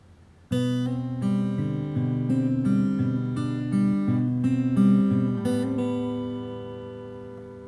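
A guitar riff from a song played alone, plucked notes ringing out in a quick repeating pattern with hammer-ons, the phrase repeating a few times before fading.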